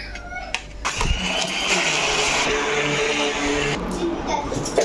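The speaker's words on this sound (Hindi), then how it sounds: "देखो अब जल्दी से इसमें हम ब्लेंडर घुमाएंगे।" A kitchen blender whirs through a tender coconut pudding mixture, kicking in after about a second with a loud, steady, close-up roar that holds for several seconds before easing off.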